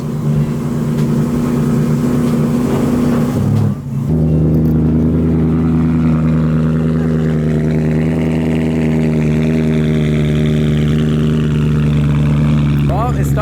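A BMW E36 M3 engine idles loudly and steadily nearby, with a brief dip in the rumble early on before it evens out again.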